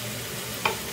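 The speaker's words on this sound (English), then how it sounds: "Now add green peas. I'm using frozen peas." Frozen green peas fry in a pan with mushrooms for a masala, giving a steady close sizzle with one brief sharp clink of a utensil near the end. No one speaks.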